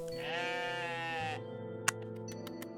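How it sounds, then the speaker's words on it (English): A single sustained sheep bleat in the video game OneShot, a clear tonal 'ah'-like call lasting about a second, followed by a quiet hum and a few faint clicks. "The sheep also make different tones."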